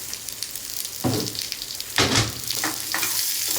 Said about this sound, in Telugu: కొంచెం ఉప్పు వేసి మగ్గబెట్టుకుంటే తొందరగా ఉల్లిపాయలు ఉడికిపోతాయి